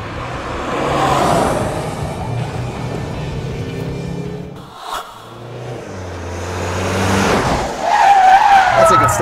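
Mazda CX-5 SUV driven hard around a race track at about 140 km/h, engine roaring and tires squealing through corners, the noise dipping briefly then surging loud again, with someone talking over it.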